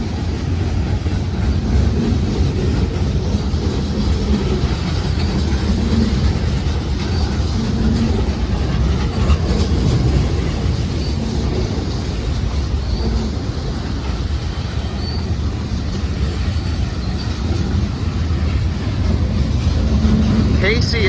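A manifest freight train led by an AC44C6M locomotive rolls past with boxcars, giving a steady, loud rumble and rail clatter that persists unbroken throughout.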